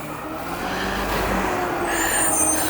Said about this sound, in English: this garbage truck is blocking the crosswalk